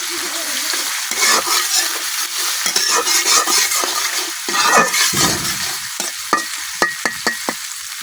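Onion, garlic and slit dried red chilies fry in hot oil, a steady crackling sizzle with stirring scrapes that thin into a few sharp clicks and taps toward the end.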